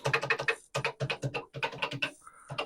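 Rapid bursts of typing on a Commodore PET keyboard, close and loud in quick clusters with brief pauses, followed by a short higher tone near the end.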